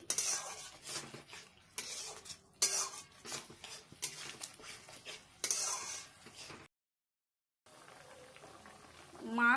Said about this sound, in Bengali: ঝোলের মধ্যে আমি এক এক করে মাছগুলো দিই